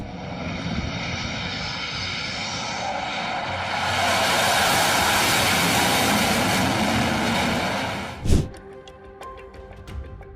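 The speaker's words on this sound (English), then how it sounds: "Our Southwest Airlines Boeing 737 made an emergency landing in Denver after an engine cover detached during takeoff" A Southwest Airlines Boeing 737 making an emergency landing in Denver after an engine cover detached during takeoff: a loud, steady jet engine roar that swells midway, then a sharp thump and fading rattles.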